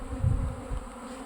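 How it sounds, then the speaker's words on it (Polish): A dense, steady buzzing hum of many honeybees on an orientation flight at an apiary in the Low Beskids, close by and continuous, with no voices. "Po ostatnich deszczowych dniach pszczoły postanowiły się oblecieć"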